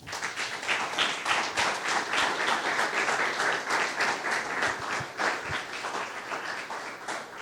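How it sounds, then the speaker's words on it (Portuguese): A church congregation claps and applauds together during a sermon, a dense, steady wash of many hands filling the room without pause. "Aplauda o Senhor Jesus"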